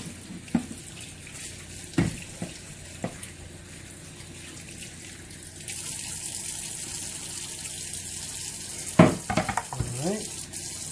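Running tap water over a cutting board in a kitchen sink, a low steady wash that grows fuller midway, with scattered knocks and clatters of the board being handled.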